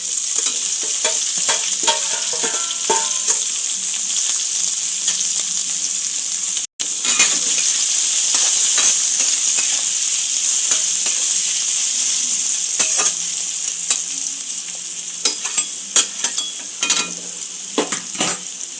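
Vegetables for a Bengali-style veg pulao frying in a pan, a steady loud sizzle broken by frequent scraping stirs of a spoon, with a brief dropout partway through.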